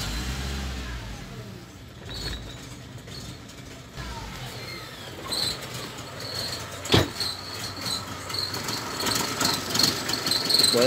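A Suzuki Grand Nomade engine with an idle fault is started, the cranking giving way to a running engine whose rough, rising rumble grows louder and more uneven toward the end.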